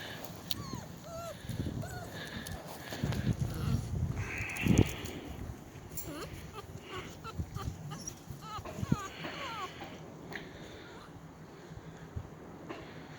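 Louie, a young puppy, cries out with repeated thin whimpers and yelps among his littermates, close by, mixed with a person talking and cooing over the pups.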